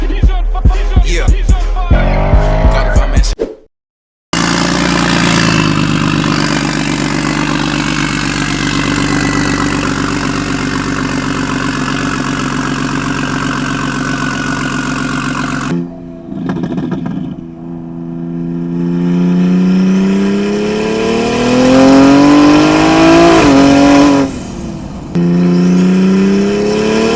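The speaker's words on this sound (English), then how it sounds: "Misfire, not in fourth, but in fifth that time." A big-turbo BMW 335i accelerates hard through the gears from inside the car, engine roaring loud and close with rising pitch, a brief gap at a shift, and a stumbling misfire as it pulls.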